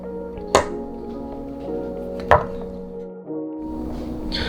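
A knife dices bacon on a cutting board with two sharp, separate chops, close by over a steady background hum.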